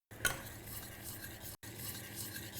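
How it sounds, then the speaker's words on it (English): Honey being stirred through a sticky sauce in a pan, a steady scraping and swirling of utensil against the pan bottom, close and continuous with one brief break, no talking. "Stir that through."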